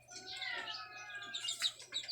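Racing pigeons in a loft, one newly returned after two months, give busy close chirping and calling that runs continuously, with brief fluttery bursts toward the end.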